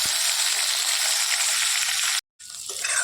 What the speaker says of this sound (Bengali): তেল গরম হয়ে গেছে, মাছগুলো এবার দিয়ে দিবে।